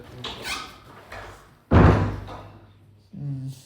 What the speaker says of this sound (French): Ferme la porte derrière toi, s'il te plaît.